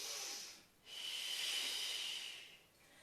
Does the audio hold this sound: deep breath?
yes